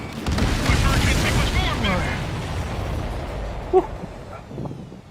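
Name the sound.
explosions like fireworks in the video game Ace Combat 7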